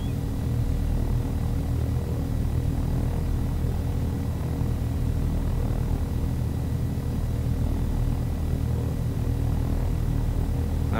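Simulated helicopter in the flight game Take on Helicopters, a steady, loud rotor and engine drone with a deep harmonic hum that holds unchanged throughout, no voices over it.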